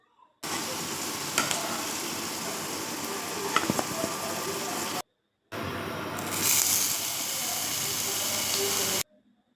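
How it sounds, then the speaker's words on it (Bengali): Crushed ginger fries lightly in a pan with a continuous close sizzle and occasional stirring clinks, cut by a short silent gap partway through, then the frying resumes, somewhat louder and hissier. "আদাটাও থেতো করে হালকা ভেজে রাখলাম"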